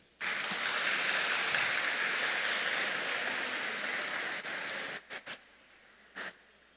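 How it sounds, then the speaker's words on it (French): Graduating students at a thanksgiving Mass for their school applaud their parents with a long stretch of steady clapping that fades, then a few scattered final claps. "Applaudissez vos parents, s'il vous plaît."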